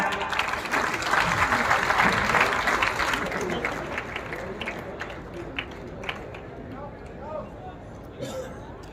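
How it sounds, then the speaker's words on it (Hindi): An audience at a public event in Jhansi applauds with brisk, dense clapping at moderate distance. The clapping gradually thins into scattered claps, and faint voices murmur underneath. "आप सभी की जोरदार तालियां।"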